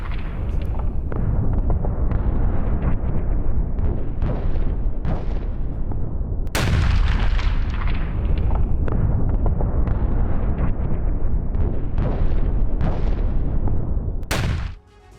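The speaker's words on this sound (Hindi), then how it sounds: "आईडीएफ वायुसेना की विध्वंसक बमबारी की तस्वीरें आप देख रहे हैं" Israeli air force bombardment on Lebanon, a dense series of heavy explosions and booming blasts, loud and continuous with sharper bursts standing out, ending abruptly.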